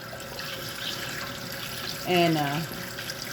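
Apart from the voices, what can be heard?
water running in sink while cleaning eggs in a bowl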